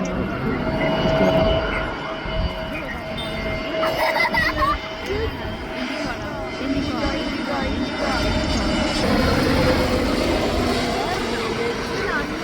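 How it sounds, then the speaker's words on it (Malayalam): An airplane passing overhead near Karipur airport gives a loud, sustained engine roar that swells and holds across the stretch, with people talking over it. "അങ്ങനെ രണ്ടാമത്തെ പ്ലെയിനും വന്നു"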